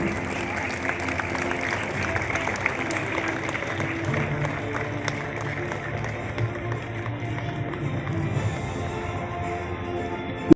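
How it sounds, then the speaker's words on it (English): An audience at a school award ceremony keeps up a long, steady round of applause, moderately loud and fairly distant, with speech mixed in beneath the clapping. "Let's give a huge round of applause for him."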